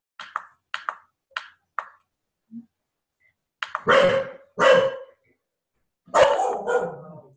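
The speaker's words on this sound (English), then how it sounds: "that's you with the dog" A dog barks during an online conversation: first a run of short, sharp yips, then several louder, fuller barks with pauses between them.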